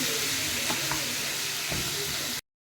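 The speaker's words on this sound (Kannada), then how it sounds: "ಇದನ್ನು ಸ್ವಲ್ಪ ಎಣ್ಣೆಯಲ್ಲಿ ಫ್ರೈ ಮಾಡಿ." Boiled jackfruit frying in oil in a pan, with a steady, close sizzle and hiss and a few soft stirring knocks, then an abrupt cutoff.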